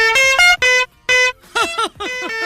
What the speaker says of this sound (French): moi j'ai un nouveau klaxon.